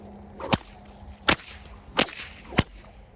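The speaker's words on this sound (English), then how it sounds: "When you hear a whip crack" Four sharp whip cracks snap out at irregular intervals of under a second each, loud and distinct against quiet outdoor air in an open area, with no speech.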